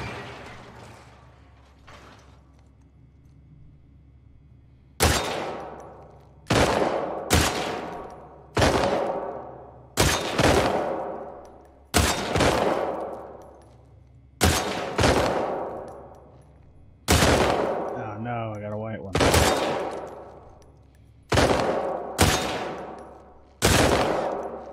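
Ten or so sharp, loud gunshots spaced roughly a second or two apart, each with a ringing decay, as a full magazine is emptied in The Last of Us Part II; one shot carries a brief metallic warble.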